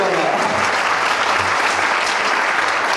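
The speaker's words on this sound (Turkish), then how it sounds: "Kocaman bir alkışla yollamaz" Loud, dense audience applause at a youth and sports department event, a continuous roar of many hands clapping evenly throughout, with a low murmur of voices beneath.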